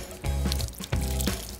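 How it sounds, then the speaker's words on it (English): Water poured and splashing over a plaster animal track cast outdoors, washing away dirt, in two loud gushing bursts with a pause between. "I don't know if my water will be warm enough to thaw it and wash it all away."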